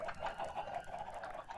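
A Minecraft chicken clucks softly and repeatedly in a steady, faint run of short calls.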